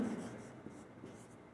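Chalk or marker writing equations on a classroom board during a Class 10 maths lesson, a soft continuous scratchy rubbing that is loudest at the start and then fades, with no voice over it.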